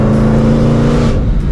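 A Ford Shelby GT500 Mustang engine revs briefly with a close, loud, snarling exhaust that holds steady and then eases off.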